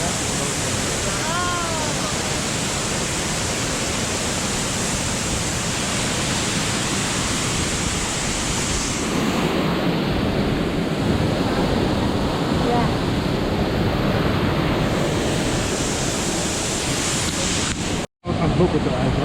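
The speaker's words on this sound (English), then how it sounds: "dit is dus de waterval" A waterfall pours with a constant, dense rushing roar heard from close by, and a voice speaks briefly over it early on.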